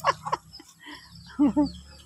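Chickens cluck in short bursts, a couple at the start and two louder ones near the end, fairly close with a faint hum beneath.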